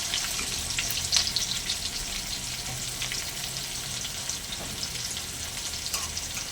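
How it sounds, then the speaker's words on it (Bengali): Chopped onion fries in hot oil with a continuous, close sizzling crackle, steady in level and with no voices. "দিয়ে দেবো পেঁয়াজ কুচি"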